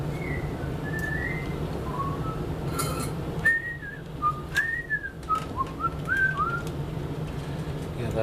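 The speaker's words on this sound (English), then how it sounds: "That's what he's whistling." A person whistles a short, wavering tune, soft and fairly close, in a series of quick rising and falling notes against a quiet background.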